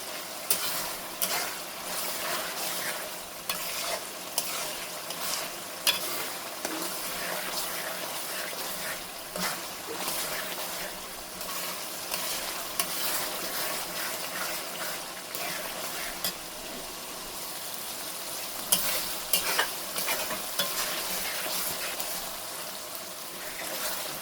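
Spice paste for mustard hilsa sautés in a pan with a continuous, even sizzling hiss, broken now and then by light scrapes of a spoon, close and steady throughout.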